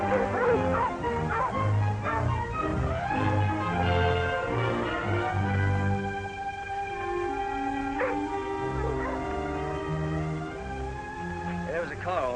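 Several dogs near an old logging camp bark, yip and whimper in a busy, overlapping chorus that sounds close at first and then settles into thinner whines, with voices mixed underneath, in a 1949 crime film.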